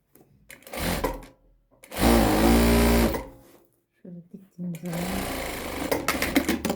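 A sewing machine stitches Adana-style şalvar trousers in several close, loud bursts: short runs at first, then a sustained whir of about a second, and a longer stretch of stitching at the end, with quiet gaps between.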